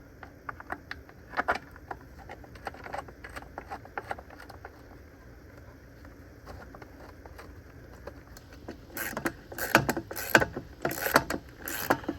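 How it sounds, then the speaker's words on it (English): A 1/4 nut driver reinstalls a pool pump's plastic cover, giving a run of sharp ratcheting clicks and small knocks, sparse at first and then quicker and denser near the end. "Reinstall the cover using 1/4 nut driver."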